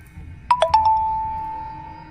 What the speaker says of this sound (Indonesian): akhirnya handphone Hermawan berbunyi